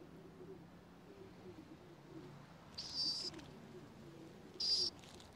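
City pigeons coo in soft, low, rolling calls that repeat in a gentle rhythm close by, broken twice by brief sharp high chirps.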